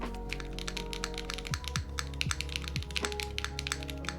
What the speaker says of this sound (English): My screwdriver is making you really nervous.